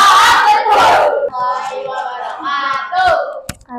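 A school class chants and claps together in a rhythmic group cheer, the tepuk mantul, loud and close, voices shouting in unison with sharp claps, ending in a single hard clap.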